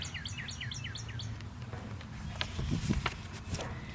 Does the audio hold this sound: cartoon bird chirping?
yes